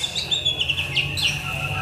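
A green leafbird sings in a continuous run of high, bright chirps and warbling phrases over a low steady background hum, close and fairly loud throughout.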